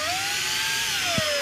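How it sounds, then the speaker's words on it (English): Big cordless power drill boring into a wall while installing a shelf: a continuous high motor whine that rises and falls slightly in pitch, close and loud, with no talking. "Now I'm using the big boy drill here."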